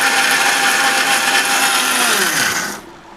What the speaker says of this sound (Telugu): ఇప్పుడు దీంట్లో మిక్సీ గ్రైండ్ చేస్తాం